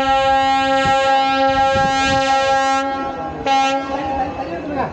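A WDP-4D diesel locomotive hauling a Tiruchy–Thiruvarur passenger train in Tamil Nadu sounds a long, loud, multi-tone horn, then a second short blast, over the rumble of the passing train.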